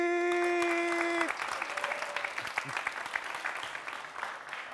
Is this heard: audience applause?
yes